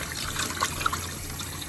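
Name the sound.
water rinsing salmon fillets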